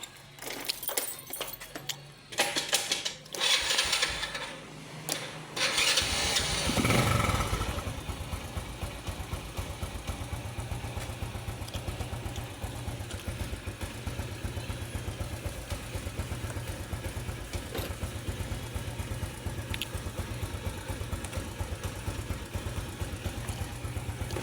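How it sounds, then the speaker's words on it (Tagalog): A motorcycle is started after a few seconds of jangling and handling noises, then settles into a steady, close, continuous idle that runs alone to the end. "Ay, motor ko."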